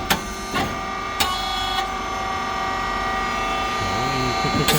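A rice cake machine (model SYP4509, with coated moulds and a switch box) runs with its motor, pump and fan, making a continuous mechanical drone broken by a few sharp clacks near the start and a warbling tone at the end.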